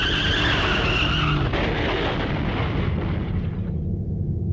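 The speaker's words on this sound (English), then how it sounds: "there was an oddly familiar sound, another car accident, again right outside my door" A car crash effect in the horror game Corpse Party: Blood Drive, a loud skidding screech and crunching impact that fades out over a few seconds, heard alone.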